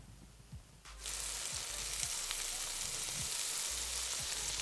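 Panko-breaded shrimp drop into hot frying oil one after another, and the quiet kitchen bursts into a steady, bright sizzle with faint knocks from tongs underneath.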